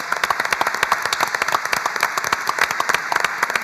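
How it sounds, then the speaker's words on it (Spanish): Sustained audience applause at an open finance industry talk in Spanish, dense rapid clapping filling the room steadily throughout, fairly loud and close with no voices over it. "Podemos hacer un fuerte aplauso por Ale porque se lo merece."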